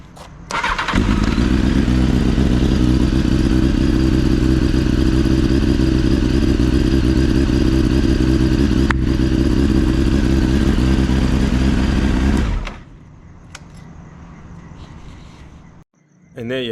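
A Honda CBR929RR sport motorcycle engine runs loud and steady close by for about twelve seconds, a constant rumbling idle, then cuts off and leaves quieter background noise with faint voices.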